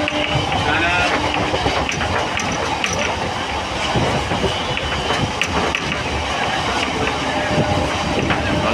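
Train noise at Mecheda railway station: a dense, continuous rumble and clatter of rail cars with station bustle, loud and close throughout, no clear speech.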